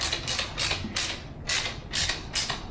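A hand ratchet clicks in quick bursts while tightening bicycle fork parts during a bike overhaul, about six or seven rhythmic clicking strokes heard close and clear, with no talking.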